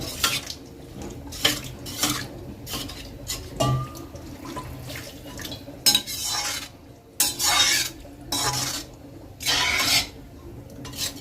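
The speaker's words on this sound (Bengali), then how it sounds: "এবার পরিমাণ মতো জল দিয়ে দিচ্ছি।" Water poured into a pan of fried spices for a bottle gourd kofta curry, heard as several splashing, rushing bursts mixed with metal pan and utensil clatter, close and moderately loud with quiet gaps between.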